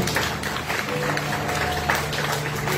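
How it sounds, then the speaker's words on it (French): Congregation applauding in a church, a steady dense wash of many hands clapping at moderate loudness throughout, with a sustained low tone underneath. "Applaudissons pour le Seigneur."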